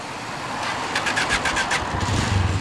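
A car engine revving as the car pulls away, a steady, fairly loud mid-pitched drone over a couple of seconds with no talking.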